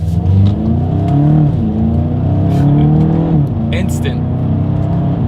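A Volkswagen Golf GTI Mk8 engine revs hard under acceleration in a steady rising drone, broken by quick paddle-shift gear changes where the pitch drops and climbs again, loud and close from inside the car.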